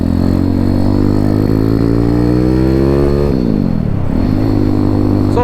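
A Honda C50 motorcycle engine runs steadily at half throttle, loud and close, with the engine note holding, sagging briefly, then climbing again. No voices.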